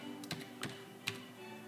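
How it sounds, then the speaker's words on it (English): Typing on a computer keyboard with one hand: three or four quiet, separated key clicks spaced irregularly over a low steady background hum. "I'm typing with one hand here"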